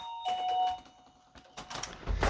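A doorbell in Ivanka pri Dunaji, Slovakia, gives a clear ringing chime near the start, followed by muffled voices and rustling nearby.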